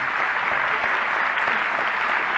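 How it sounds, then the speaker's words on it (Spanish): Crowd applause for Bolivia's Law 1196 at its promulgation ceremony for older adults, a dense steady wash of many hands clapping, loud and continuous with no gaps. "Fortísimo el aplauso, por favor, para la Ley 1196."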